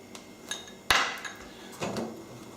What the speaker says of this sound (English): Stick the lid back on for 5 minutes.